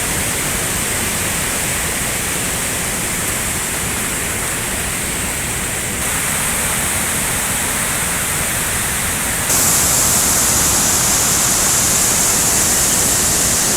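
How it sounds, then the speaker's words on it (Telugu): Streams swollen by rain and landslide-blocked roads rush past in a loud, unbroken roar of churning water, steady and close for the whole stretch with no voices. "వాగులు వంకలు మొత్తం పొంగి పొర్లుతూ ఉన్నాయండి"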